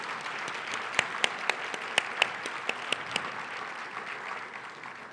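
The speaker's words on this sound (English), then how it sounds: "Let's give them a round of applause" Crowd applause at an evening Martin Luther King Jr. celebration, a steady wash of many hands clapping with a few sharp, louder claps standing out near the front, sustained without speech.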